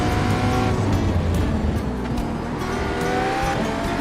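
Race car engine from the iRacing video game, an IMSA GTE car at the Red Bull Ring, roaring steadily and loud throughout as it passes another car, with tire squeal mixed into the continuous engine noise.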